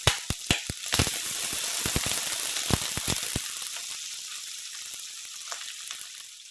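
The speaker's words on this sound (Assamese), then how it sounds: "আৰু কেঁচা পিঁয়াজ এইখিনি দি অলপ সময় মই ভাজি ল'ম" Raw onion and panch phoron hit hot oil for a Kolkata-style vegetable chop, making a steady, close sizzle. Sharp crackling pops cluster at the start and then thin out as the frying settles.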